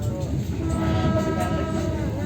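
A KLB parade-livery train rolls into Tulangan station in Indonesia with a steady low rumble and a faint high tone above it, heard from close by.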